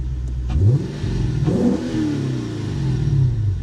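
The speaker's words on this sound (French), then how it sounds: "on va faire écouter le bruit du V8 et on va pas être déçus" A Lexus IS-F V8 engine revs up and down in a couple of throaty bursts, deep and rumbling, close by with no voices.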